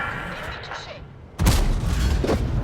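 Tank cannon fire in the World of Tanks video game, on a Karelia map: a heavy boom and rumble land halfway through, over a steady background of battle noise.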